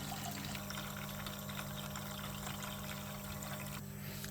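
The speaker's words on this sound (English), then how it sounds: "Now you should see the water start flowing into the bucket." Water from a Zip Hydro tap filter runs into a bucket in a steady, faint, continuous rushing stream that lasts throughout.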